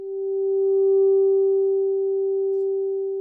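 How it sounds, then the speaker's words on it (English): A synthesizer lead plays a single sustained pure tone with no vibrato or modulation, steady and clean for several seconds. "I've got a lead sound, which might have sounded like this without any modulation."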